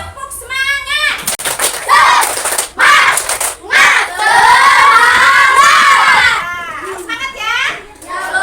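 A class of children in an Indonesian school lesson does a rhythmic spirit clap, with sharp bursts of clapping mixed with loud chanting and shouting voices close by.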